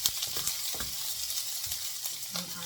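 Garlic and onions frying in a pan until browned, a soft steady sizzle with occasional light stirring clinks and scrapes close by.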